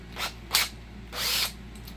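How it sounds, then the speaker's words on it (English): A power drill spins in short bursts while driving a reloading tool set up as a mini lathe, giving two quick whirring pulses followed by a longer, steadier run, close and moderately loud. "that allows you to chuck it onto a drill"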